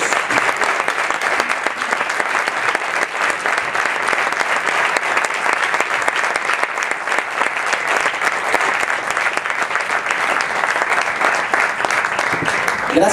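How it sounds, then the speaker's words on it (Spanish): A large audience at a startup competition event in Seville breaks into loud, sustained applause, a dense steady wash of clapping that holds evenly from start to end with no pauses. "les pido por favor a todos ustedes que les regalen un fuerte aplauso"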